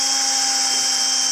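A cordless drill on its slow setting whirs steadily while mixing cheesecake batter, a constant high-pitched motor whine with a faint hum beneath, alone and unbroken for the short stretch.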